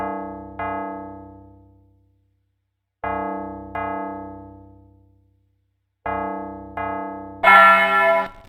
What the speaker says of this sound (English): Henri, go and ring the bell again.